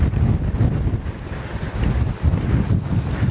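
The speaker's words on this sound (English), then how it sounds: "This wind's really starting to pick up now." Strong wind gusts across a reservoir during winter carp fishing, a loud, continuous blustery roar buffeting the microphone with no talking.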